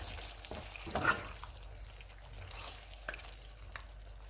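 Garam masala and coriander are stirred into meat frying in a pan for a cauliflower and meat curry, with a faint, soft sizzle and a brief scraping stir near the start.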